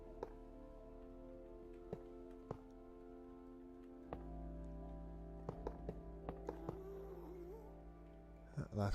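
A sleeping cat's drawn-out, wavering cry, the source of the Minecraft ghast sound, rises faintly late on over steady tonal background music punctuated by soft clicks.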